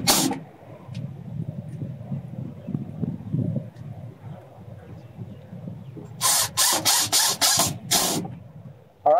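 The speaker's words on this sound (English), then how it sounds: "I'm going to go through and put a screw in all the holes all the way around and make sure it's fastened in there" A power drill drives screws into a newly installed window frame in an old farmhouse kitchen remodel, giving about five short, loud whirring bursts in a row after a stretch of quieter handling noise.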